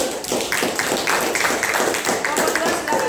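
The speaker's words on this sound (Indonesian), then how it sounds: "Beri tepuk tangan dulu untuk kelompok 2." Classroom applause for a student group, a burst of scattered hand clapping from students in a room, steady and close throughout, with some voices mixed in.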